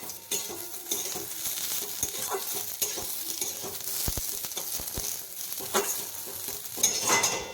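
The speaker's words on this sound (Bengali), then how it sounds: "এই যে কয়েকটা কিশমিশ দেব, এর সাথেই দেব, তাহলে হালকা ভাজা হবে।" Raisins fry lightly with potatoes, carrots and peas in a pan, a steady sizzle broken by sharp spatula scrapes and clinks against the metal at irregular intervals.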